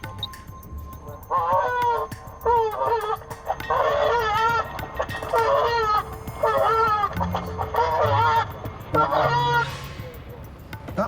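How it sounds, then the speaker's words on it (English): A goose's harsh, repeated honking distress calls blare from a bird-scarer loudspeaker at Heathrow Airport in several loud bursts, with short gaps between them. "A very distressed goose."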